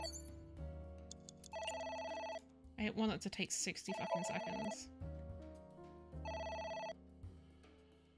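A telephone rings in the video game AI: The Somnium Files, repeated electronic ringing bursts in steady rhythm while a player talks over it and in-game music plays beneath.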